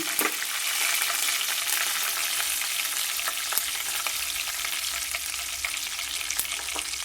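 Split urad dal tempering fries in hot oil in a pan, giving a steady, dense crackling sizzle throughout, with a few sharper pops and no voices.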